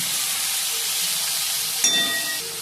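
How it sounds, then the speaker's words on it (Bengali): Tomato and onion fry in a pan with a steady, close hiss of sizzling oil, broken near the end by a brief metallic clink before the frying carries on. "এবার লাল লাল করে ভেজে নেব।"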